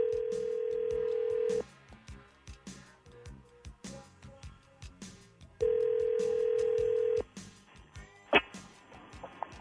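A telephone call is placed and two long ringback tones sound over the line, separated by a pause and muffled handling noises, with a sharp click near the end.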